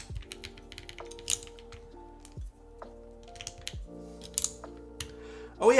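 Scattered clacking keystrokes come from a custom-built mechanical keyboard, irregular and fairly quiet, with faint sustained background tones underneath.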